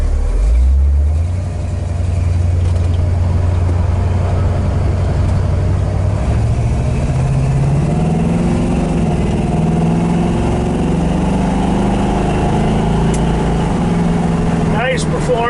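A 1967 Chevrolet El Camino Custom's engine runs on a road test drive, a smooth, moderately loud rumble rising and shifting in pitch as it accelerates, with someone talking over it.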